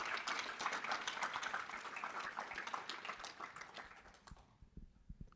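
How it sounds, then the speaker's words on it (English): An audience at a pitch competition applauds the competitors, steady dense clapping that fades out toward the end. "A round of applause for the competitors today."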